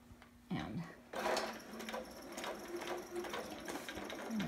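Domestic sewing machine stitching along the folded edge of fabric while making a long john sitter, running steadily close up with a brief pause and restart, then a back stitch; soft talk faintly underneath.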